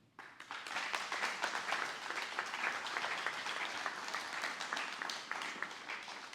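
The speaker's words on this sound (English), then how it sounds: "let's give our panelists a huge round of applause" An audience applauds panelists at a federal housing advocacy event, dense sustained clapping that swells quickly and holds steady for several seconds before easing slightly.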